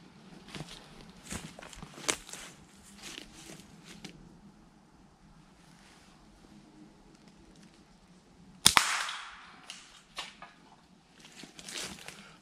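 A single sharp, loud gunshot rings out at a found tin can set about ten yards away at a rainy wild camp in the U.K., between soft shuffling, rustling and movement sounds.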